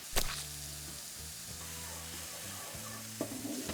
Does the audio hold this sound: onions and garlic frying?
yes